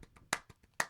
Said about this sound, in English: this is me clapping a bunch, layered 4 times.